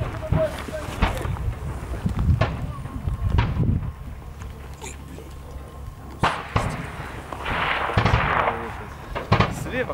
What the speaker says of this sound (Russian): Нет, из-за зеленки стреляют.